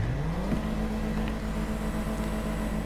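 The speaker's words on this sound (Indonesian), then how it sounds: "Nih kalian dengar aja suara knalpotnya cuy ya." A modified Benefactor Panto car engine in GTA V revs up and holds a steady, droning exhaust note, loud and continuous throughout with no talking.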